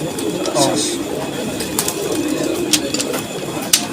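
Pigeons coo repeatedly among caged birds at a busy weekly pigeon market at Sarulia, with crowd chatter and scattered bird calls throughout.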